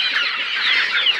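A flock of broiler chicks chirps continuously in a home rearing setup, high thin peeps overlapping loudly and close with no pauses.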